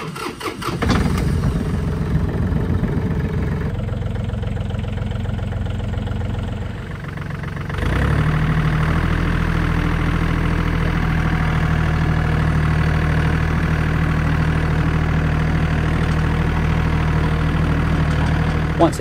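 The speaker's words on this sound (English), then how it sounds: "Once the tractor was nice and clean, I then took it for a spin to warm up all the fluids" A John Deere 3320 compact tractor engine cranks and catches, running unevenly for a few seconds before settling into a loud, steady idle that holds close and continuous to the end.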